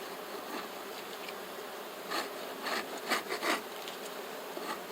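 Honey bees buzz in an open beehive warmed with propolis and showing a wax moth larva. A steady, quiet drone carries a few louder passes of individual bees near the end.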